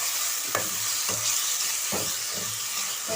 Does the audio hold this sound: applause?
no